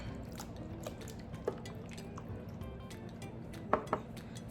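Chicken wing seasoning with meat tenderizer and brown sugar is stirred in a bowl. Soft, quiet mixing is punctuated by a few light clinks of a utensil against the dish, and no voices are heard.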